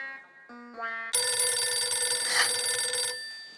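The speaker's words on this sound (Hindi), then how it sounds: "बावरी को फोन लगाता हूँ।" A telephone rings on an outgoing call: a few soft, rising beep tones, then a loud, bright electronic ringtone that holds for about two seconds before fading out.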